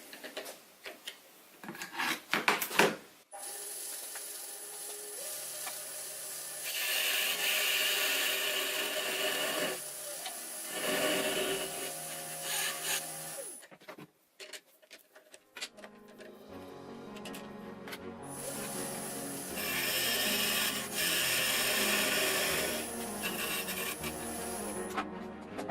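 A lathe trues up the ends of a piece of scrap pine in a workshop, giving a steady rasping, scraping whir in several long bursts broken by short pauses, close and fairly loud with no talk.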